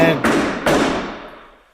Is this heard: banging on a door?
yes